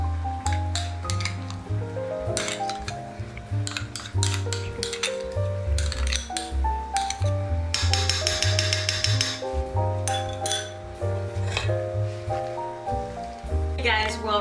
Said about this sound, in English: We're gonna add the 3 tablespoons of butter and we're just gonna mash them